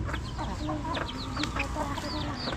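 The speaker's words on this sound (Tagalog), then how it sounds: "Pagkadami na ng manok." Chickens cluck and chirp in a busy flock, with short overlapping calls coming steadily from several birds at close to moderate distance over a low background.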